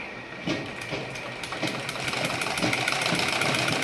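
A sewing machine stitches a ladies' pajama, running in a fast, steady mechanical chatter with a high whine that gradually grows louder, and no one speaks.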